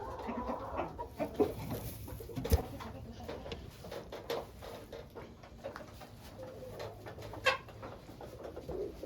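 Chickens cluck and murmur steadily in a coop kept for laying hens, with scattered louder squawks and pigeon-like coos over a busy, close background of fowl noise.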